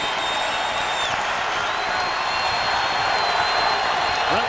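A basketball arena crowd at a 2001 Big 12 game between Kansas and Iowa State, a steady dense roar of cheering that holds at full strength throughout with no gaps.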